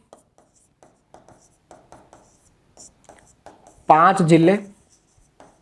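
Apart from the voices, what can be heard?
writing on a board with a marker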